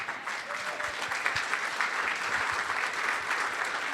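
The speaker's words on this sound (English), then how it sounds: "Give her a round of applause." Audience applause for a speaker's wife at a business talk, a steady, dense wash of clapping that holds evenly from start to finish without voices over it.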